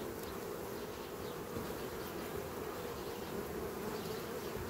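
Honey bees preparing for winter hum in a dense, continuous drone, a steady buzzing swarm close by with no talk over it.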